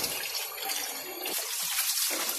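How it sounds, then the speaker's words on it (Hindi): Tawa fish is rinsed in water, swished through two or three changes in a vessel, with a continuous loud splashing and gushing that briefly shifts midway and no talk. "बस 2-3 पानी हम इसको ऐसे ही हंगाल लेंगे।"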